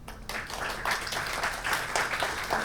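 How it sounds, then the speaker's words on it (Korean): Applause from a public diplomacy conference audience in Sejong welcoming a presenter, a steady dense wash of clapping filling the room throughout. "그러면 최영수 팀장님을 큰 박수로 맞이해주시면 고맙겠습니다."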